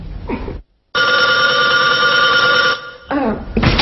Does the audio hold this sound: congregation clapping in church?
no